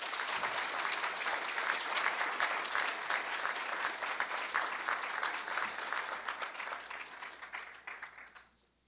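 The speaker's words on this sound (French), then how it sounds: "On les applaudit, s'il vous plaît." A university ceremony audience applauds warmly, dense sustained clapping that stays full for several seconds before tapering off and stopping.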